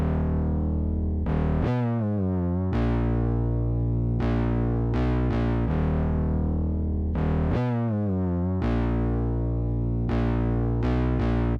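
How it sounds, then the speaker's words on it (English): An 808 bass line built only on root notes, with pitch slides between notes, played loud and continuous with distortion and effects colouring the tone, no voice over it. "that's the bass line I laid down"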